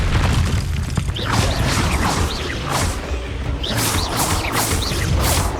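Fire spells are cast during combat in the game Hogwarts Legacy, a dense roaring, booming mix of whooshes, crashes and mechanical clatter that stays loud and continuous throughout.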